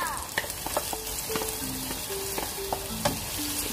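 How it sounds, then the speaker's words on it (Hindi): Garlic, ginger and green chili sizzle in three to four tablespoons of hot oil while a stuffed karela dish is made, a steady close frying hiss with scattered pops and crackles. "अब जो लहसुन अदरक और हरी मिर्च है वो मैं इसमें शामिल कर लूँगी।"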